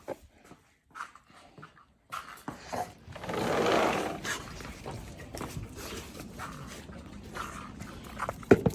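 Several dogs whimper and whine at feeding time, starting with sparse yelps and then building into a louder, continuous chorus of restless canine noises nearby.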